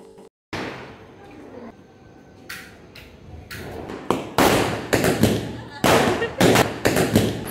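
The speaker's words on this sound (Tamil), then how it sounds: "இன்றைக்கி நான் கொஞ்சம் அளவுக்கு தைரியமாக இந்த பட்டாசு எல்லாமே வெடித்தேன்" Firecrackers burst during a Diwali celebration, sharp, loud cracks that start sparse and grow into a rapid cluster of close explosions over faint background noise.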